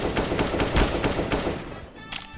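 Rapid automatic gunfire from a first-person shooter game, Team Star, bursts loudly in quick repeated shots for about two seconds before tapering off.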